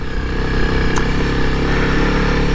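A 2021 Honda CRF300L motorcycle engine drones steadily and loudly while riding, with constant wind rush and no break in the engine tone.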